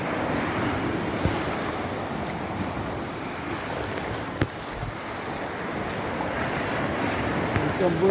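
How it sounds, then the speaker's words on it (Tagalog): Waves wash and break against the shore at high tide in a constant surf roar, with wind buffeting the microphone and an occasional sharp knock as waves hit a boat. "Hinahampas na pala to ng ano. ng alon."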